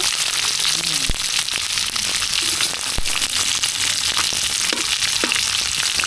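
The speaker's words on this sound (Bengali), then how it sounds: "বড়িগুলো ভেজে নেব তখন কড়ার তেলটা এত গরম হয়ে গেছিলো" Lentil dumplings (bori) frying in very hot oil in a wok, a loud continuous sizzle and crackle close up, with sharp spatters and pops breaking through the steady hiss.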